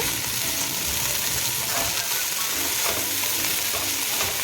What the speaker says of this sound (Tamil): இப்போ எல்லாத்தையுமே நல்லா கலந்து விட்டுக்கோங்க.